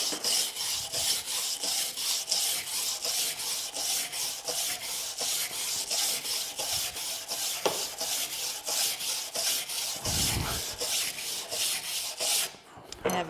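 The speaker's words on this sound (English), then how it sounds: "you put the wire the long way so you get a lot of scratching in just one pass" Wire brush dragged lengthwise along wood grain in rapid repeated back-and-forth strokes, a rhythmic bristly scratching close up and steady for many passes with a few bumps of handling.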